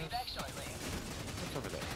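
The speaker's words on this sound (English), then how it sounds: "I'm getting shot at." Rapid bursts of gunfire crackle in the video game Helldivers 2, a dense, close fusillade filling two seconds without pause.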